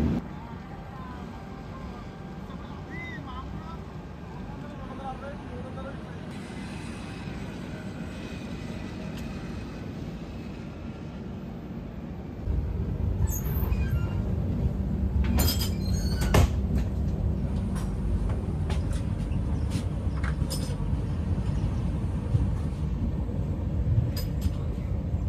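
A Shatabdi Express train running out of Secunderabad toward Pune, heard from inside as a steady rumble and rolling noise that grows louder midway, with scattered clinks and rattles of the carriage.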